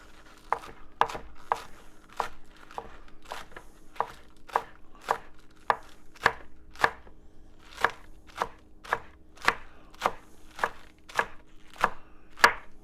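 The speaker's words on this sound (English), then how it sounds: "chop a little green onion" Green onion is chopped on a cutting board for a Cajun salmon gumbo, with a steady run of about twenty crisp, evenly spaced knife thuds, close and clear with no talk.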